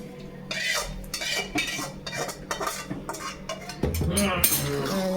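A spoon scrapes and clinks against a metal pan as sugar syrup is stirred into a thick adadiya mixture. The sound comes as a run of close, irregular scraping strokes with a louder clatter near the end.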